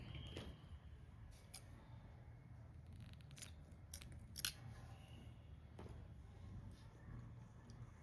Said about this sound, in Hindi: थोड़ा लंबा करके धागा काट देंगे।